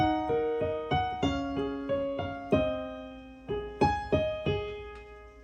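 Piano plays a repeating pattern of chords from a song, each struck and left to ring before the next, clear and close with no talking.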